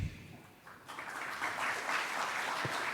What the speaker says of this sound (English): another warm round of applause to welcome our moderator and speakers on the stage